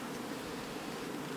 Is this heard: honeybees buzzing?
yes